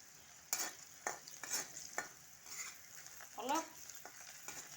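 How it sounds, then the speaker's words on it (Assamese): A spoon stirs salt and turmeric through hot oil in a pan while cooking a leafy greens dish, with a quiet steady sizzle and several distinct scraping strokes, without talk. "তাৰপিছত মই এতিয়া অলপ লৰাই থাকিম।"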